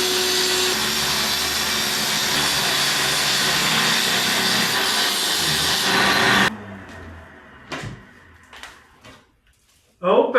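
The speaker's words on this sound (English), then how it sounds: "throw a grinder up to the ceiling to cut this plaster" An angle grinder cuts into old ceiling plaster with a loud, continuous whining grind that stops abruptly, followed by a few short scraping and knocking sounds.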